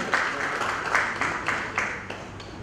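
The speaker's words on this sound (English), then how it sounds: "A big round of applause for Dr. Vijay Patil and Diwai Pawan Sports S" A crowd applauds, a fairly brief burst of clapping with irregular peaks that slowly tapers off.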